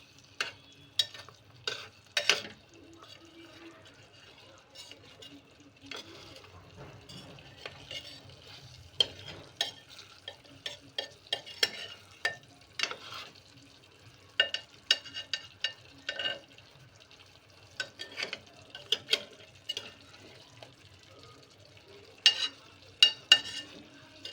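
A stuffed brinjal and potato curry with water is gently mixed in a pressure cooker. Soft scraping and clinking stir strokes come in irregular bursts over a quiet, faint simmer, with no talking.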